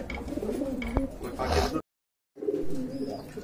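Pet pigeons at a market stall selling running pigeons by the pair coo in repeated throaty calls up close, with a brief dropout to total silence midway before the cooing resumes.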